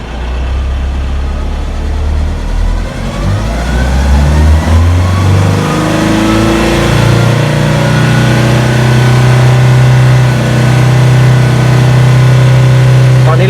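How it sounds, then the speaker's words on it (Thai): A diesel pickup engine with falling fuel rail pressure and a locking pump revs up steadily from idle, its pitch climbing and holding high, loud and close. "เดี๋ยวเราจะค่อยๆเร่งขึ้นไปนะครับ"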